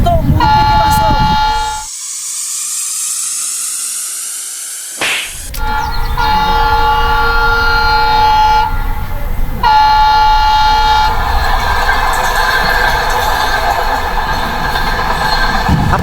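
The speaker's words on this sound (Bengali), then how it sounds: "তাড়াতাড়ি কর, ট্রেন আসে গেছে।" A train passes close by in Rangpur, loud and continuous, with sharp horn blasts and a rushing, rattling rumble of wagons filling the scene.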